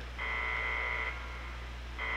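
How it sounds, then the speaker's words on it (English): A Minecraft Tekkit nuclear reactor facility's alarm sounds a steady electronic buzzer tone that cuts off after about a second and then starts again over a low background hum. "that triggers the alarm system"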